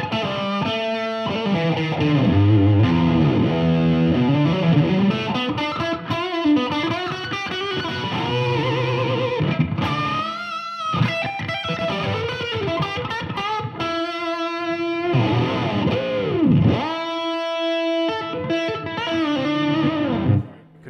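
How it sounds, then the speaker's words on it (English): A distorted electric guitar plays lead lines through a tape delay effect, sustained bending notes and phrases with echoing repeats, loud and close, broken by brief pauses between runs. "We're just going to go for some lead sounds, so I'm just going to kick on the tape"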